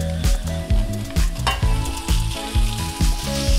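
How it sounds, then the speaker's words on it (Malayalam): Marinated chicken fries in a pan for Chicken Mughlai, a loud steady sizzle broken by regular thumping stirs of a spoon against the pan, close up with no talking. "ഈ ചിക്കനെല്ലാം ഇതിൽ കിടന്നിട്ടൊരു വെളുത്ത കളറായിട്ട് വരുന്നത് വരെ ഒന്ന് വഴറ്റി കൊടുക്കാം."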